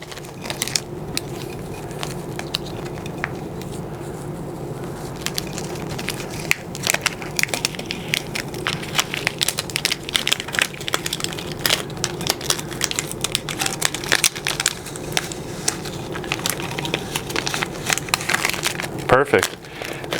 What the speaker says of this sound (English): So now I'm just going to peel back my application tape against itself.